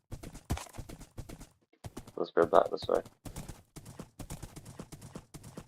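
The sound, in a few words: horse hooves clip-clopping in Minecraft video game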